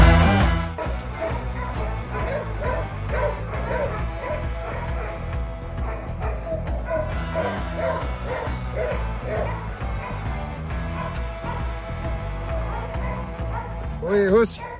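A dog barks and yips repeatedly in quick bursts, close and loud over a dense backdrop of sound, with occasional whimpers mixed in.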